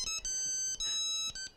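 An incoming call triggers a phone ringtone of short, clear electronic tone bursts in a quick pulsing rhythm that plays alone and close.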